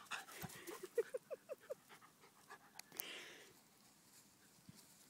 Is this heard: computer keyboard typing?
no